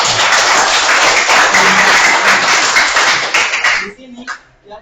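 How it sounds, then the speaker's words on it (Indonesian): Classroom applause for classmates, a dense burst of many hands clapping loudly for about four seconds before it thins out into a few scattered claps and faint voices. "Tepuk tangan dulu untuk teman-teman."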